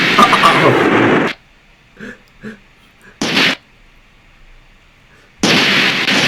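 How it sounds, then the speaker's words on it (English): Random explosion events built in Roblox Studio: a loud burst of noise, then silence broken by a few faint pops, another short blast, and a final loud sustained burst. "that's how you make a random explosion event in Roblox"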